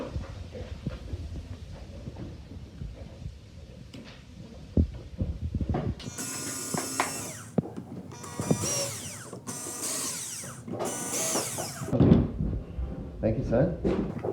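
A power drill drives screws while a lazy Susan is installed: four or five loud whirring bursts come in quick succession midway through, with handling clatter and talk around them.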